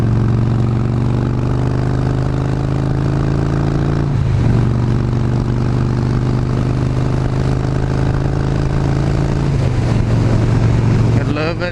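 A car engine cruising in sixth gear, a steady low humming drone with a brief dip in pitch partway through as it holds speed, with people talking over it.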